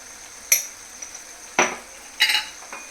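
Ladle knocks and scrapes in a pan as coriander powder and garam masala are stirred into a meat-free liver-style fry, three distinct clinks over a low sizzle, no talking.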